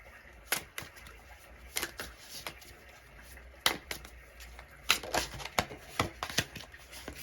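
A pick-a-card tarot deck is shuffled close up, producing soft papery riffles and sharp card slaps in uneven bursts that grow busier toward the end, with no talking.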